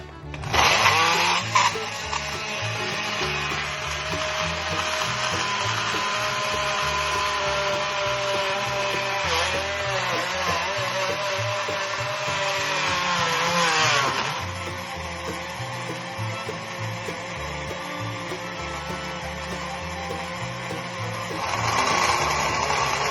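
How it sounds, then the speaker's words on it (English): A countertop blender whirs as it mixes frozen yogurt ingredients, a loud continuous motor drone with pitch shifts as the load changes, running almost without pause for over twenty seconds. "now that we have all of our ingredients here in the blender, it's time to mix it up"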